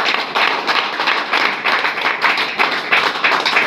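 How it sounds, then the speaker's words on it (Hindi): Audience at a meeting applauding steadily, dense clapping from many hands sustained throughout at close range, no voices over it. "आप सभी लोग के लिए अब तक की सबसे जानदार और शानदार तालियां होना चाहिए"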